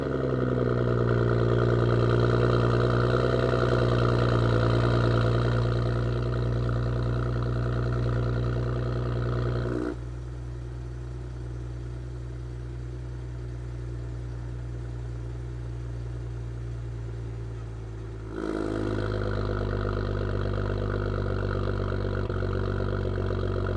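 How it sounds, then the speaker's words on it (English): A BMW F10 running on a cold start with aftermarket mufflers and an exhaust valve, a loud steady idle drone that drops noticeably quieter when the valve closes, then jumps back to its fuller rumble when it reopens. "a little clip right here of like a cold start where I open and close the valve"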